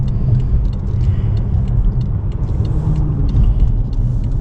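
A 2012 BMW 750Li 7 Series M-Sport with 97K miles drives along, a low steady rumble of engine and road noise heard from inside the cabin, with faint ticks and clicks over it.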